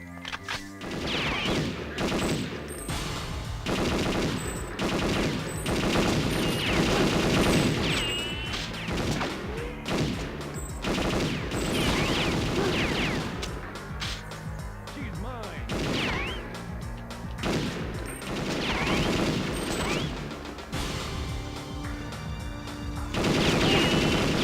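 Rapid gunfire in the Perfect Dark video game, bursts of automatic shots and sharp impacts crackling almost nonstop, loud and close, with a brief voice over the action.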